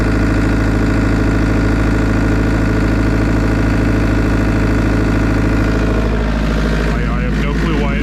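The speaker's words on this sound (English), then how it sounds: "I'm not working the machine, it's just idling here" Cat 307SSR mini excavator with an overheating problem idling nearby, a loud steady low diesel rumble with constant vibration, shifting slightly toward the end.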